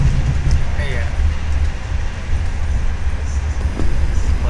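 A morning passenger train rolls slowly into Bandung station, heard from inside the carriage as a loud, steady low rumble with faint rail rattles and a brief squeal, running throughout.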